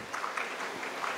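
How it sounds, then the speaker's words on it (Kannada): Audience applause at an award ceremony for the Dr Radhakrishnan Award, a brief soft wash of clapping heard from a distance, faint and diffuse over about a second. "ಜೋರಾದ ಚಪ್ಪಾಳೆ ಬರಲಿ"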